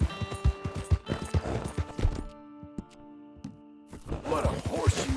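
Horse hooves clop in Red Dead Redemption II, a run of close uneven beats with a brief quiet gap before more hoofbeats and clatter, game music and faint character voices underneath.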